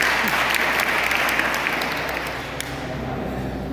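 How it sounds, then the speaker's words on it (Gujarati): Audience applause welcoming a teacher at a class gathering, a dense steady wash of many hands clapping close by, tapering slightly toward the end with no voices over it. "તાળીઓથી વધાવીશું સાહેબને."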